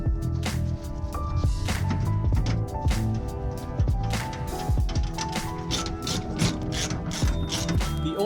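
Ratchet wrench clicking steadily as it tightens two 12mm cover bolts after an oil filter change on a Toyota Land Cruiser 100 series, with dense, rapid pawl clicks close up and no talk.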